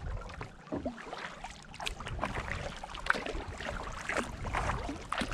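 Paddle strokes in water from a small boat, with splashy swishes and drips repeating at irregular intervals against breezy outdoor noise, fairly close.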